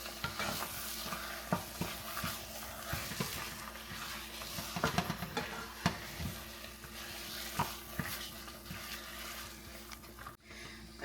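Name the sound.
stirring spinach dip ingredients together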